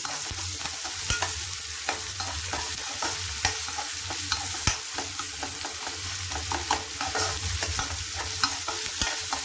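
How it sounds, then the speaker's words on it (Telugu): Ginger garlic paste frying in oil in a pan for a simple mutton fry, a steady close sizzle with scattered crackles and spoon scrapes throughout, no voices. "అది కూడా పచ్చి వాసన పోయేదాకా వేయించుకోవాలి"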